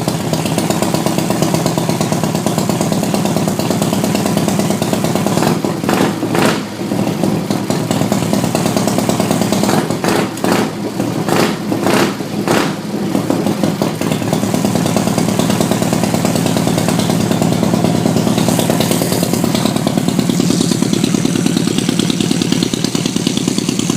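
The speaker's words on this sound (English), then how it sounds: "the engine began to work properly." A small engine on a Soviet-made chopper motorcycle with a homemade internal throttle idles loudly and steadily, with a few quick throttle revs in the middle before it settles back to a buzzing idle.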